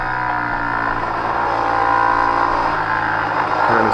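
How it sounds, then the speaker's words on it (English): Big motorcycles tearing past at high speed on the Jennings GP race track, a loud, close, continuous engine roar holding steady for about four seconds with no voices. "Big bikes coming through."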